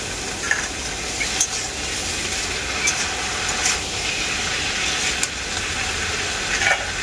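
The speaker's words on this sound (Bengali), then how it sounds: "এখন এর মধ্যে দিয়ে দেব লাউ শাক আর আলু একসাথে কেটে রাখা" Bottle gourd greens with their leaves and stems, plus potatoes, frying in a little oil, giving a steady soft sizzle with occasional faint stirring scrapes, close and continuous with no talking.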